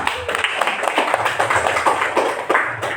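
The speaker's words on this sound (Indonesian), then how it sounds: "tepuk tangan untuk kita semua" A classroom group claps together, a brief burst of applause with overlapping hand claps and a few voices underneath.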